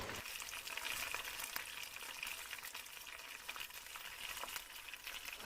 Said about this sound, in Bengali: এবার তেল ফুটে উঠেছে নামিয়ে নিয়ে দিয়ে দিচ্ছি সেই মেখে রাখা আমের মধ্যে